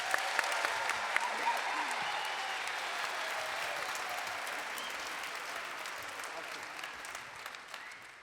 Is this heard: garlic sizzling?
no